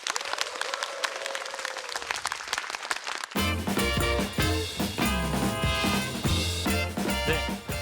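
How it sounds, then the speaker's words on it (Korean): Applause welcomes a speaker onto the stage at an education concert, filling the first few seconds before loud music cuts in and dominates. "박수로 맞이하겠습니다"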